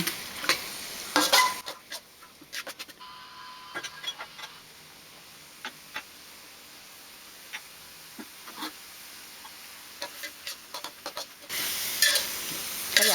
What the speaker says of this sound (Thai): ไฟกลางถึงไฟอ่อน ค่อยๆ ผัด ให้ หอม